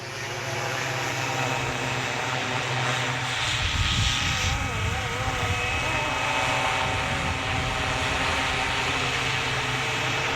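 A FlyWing BO-105 RC helicopter's engine and rotor drone steadily for the whole stretch, buzzing loudly and evenly with slight surges in pitch.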